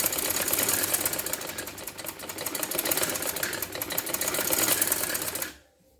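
A sewing machine runs steadily for about five seconds, stitching the piping on a girl's trouser, then stops abruptly and leaves near silence.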